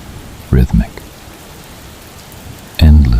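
Steady rain falls as a soft, even hiss in the background, with a calm narrating voice speaking in short bursts over it.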